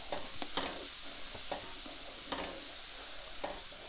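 Belgian beer with a sweet, aromatic character heats in a pot over high heat for a beef carbonnade, giving a soft, close sizzle broken by light scattered ticks and stirring knocks, with no talk.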